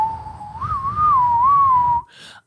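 A person whistles a single sustained, gently wavering tone in the manner of a Native American style whistle, clear and close for about two seconds before a short breathy sound ends it.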